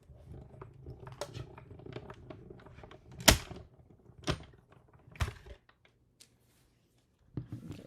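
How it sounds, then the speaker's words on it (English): BetterPress letterpress machine pressing a Spellbinders plate into paper, heard as a few separate sharp clacks and thumps spaced apart in a quiet room, with softer handling noises between them. "I'm going to run it back through one more time."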